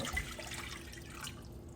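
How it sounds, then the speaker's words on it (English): Hot water poured into a pan for making raspberry Jello, a steady faint splashing stream heard alone throughout. "we put the hot water in the pan"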